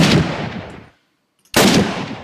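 Two loud, sharp rifle shots from the Flans Mod for Minecraft, each with a broad, decaying blast and about half a second of silence between them.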